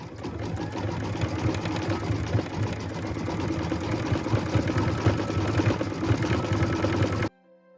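An embroidery machine stitches small gold bauble toppers for a Christmas tree skirt, a steady rapid mechanical whirring and needle chatter running loud and close before stopping abruptly.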